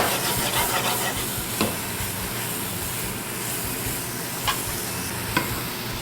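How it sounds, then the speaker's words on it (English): Pappardelle noodles with spring peas and mushrooms being stirred in a very big pan, a continuous close sizzle and hiss with occasional scraping knocks of the utensil, no talk. "now you just want to move this around and try to get the noodles coated in the mixture"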